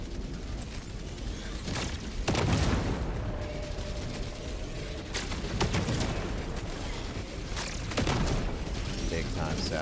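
Grenade explosion in the co-op shooter Helldivers, heavy booms and blasts punching through a busy battle soundscape of mechanical clatter and scattered gunfire, with a voice speaking over the chaos.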